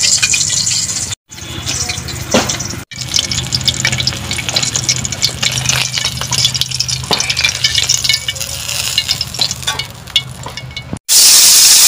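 Fish frying in hot oil in a village kitchen, a steady close sizzle and crackle running throughout with brief sharp breaks, stirring and scraping sounds on top, no talk.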